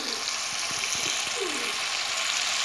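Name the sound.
onions and tomatoes frying and being stirred in pan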